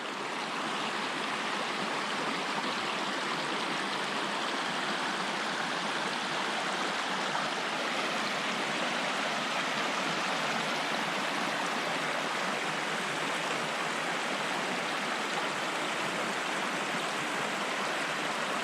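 Lepper Brook runs through the forest in a steady, dense rush of flowing water, close and unbroken from start to finish with no voices.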